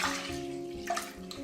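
A litre of whole milk pours in a steady, gurgling stream into a cooking pot, heard close and fairly quiet with a few brief splashy bursts.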